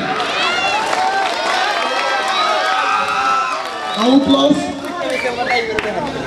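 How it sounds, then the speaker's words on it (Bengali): A crowd at a school football tournament final cheers and claps for the champion team on the field. The cheering is loud and continuous, and voices and chatter run under a steady wash of crowd noise. "ওদের জন্য জোরে করতালি"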